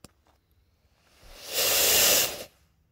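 Small sugar-fuel rocket motor with a number 21 nozzle fired on a ground test: after a brief click and quiet ignition, a loud, steady roaring hiss builds and holds for about a second before cutting off abruptly.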